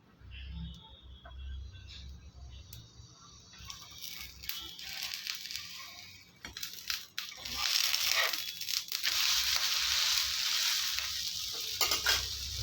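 Veg kari dosa sizzling in oil on a pan over low flame as it is pressed down, a steady hissing fry that swells louder and brighter in the second half, with scraping and stirring clicks and a voice talking over it.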